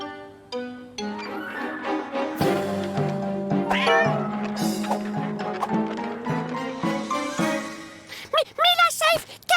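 A cartoon cat meows repeatedly among other character vocalizations, its cries rising and bending near the end, loud and close, with animated voices and sound effects around it.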